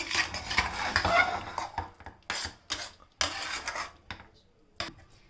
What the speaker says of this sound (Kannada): ಇದನ್ನು ಚೆನ್ನಾಗಿ ಮಿಕ್ಸ್ ಮಾಡ್ತಾ ಇದ್ದೀನಿ.